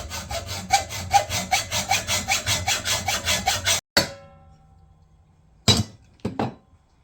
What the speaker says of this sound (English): Now we'll take a hacksaw and we'll just cut along that line.